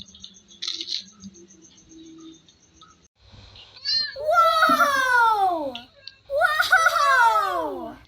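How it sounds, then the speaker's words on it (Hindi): Cats being fed let out two long, loud, drawn-out meows close by, each lasting over a second, after a stretch of faint clinks and rustling. "अब ये बिल्लियों को खाना दिया जा रहा है"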